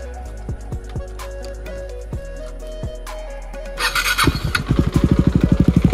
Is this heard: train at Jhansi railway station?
no